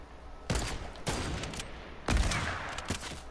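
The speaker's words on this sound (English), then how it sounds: "I hit it with the hunting rifle," Hunting rifle gunfire in the Fortnite video game: three loud, booming shots spaced about a second apart, each with a short trailing echo.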